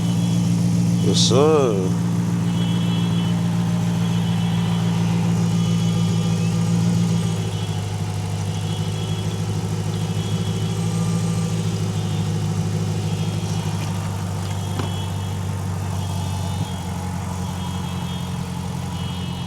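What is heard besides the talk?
car engine starting and idling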